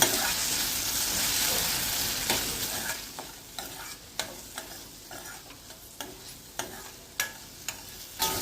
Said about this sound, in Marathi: आता आपण मसाला असा परतून घेऊया